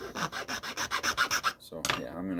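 A file rasps rhythmically across a small wooden plug for a leather shot pouch, about a dozen quick, even strokes close up, followed by a pause and a couple of scraping handling sounds.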